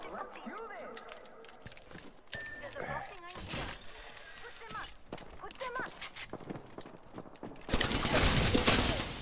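Video game gunfire sounds as scattered sharp shots and bursts amid footsteps and other game effects, ending in a louder, denser stretch of fire, while players talk over it.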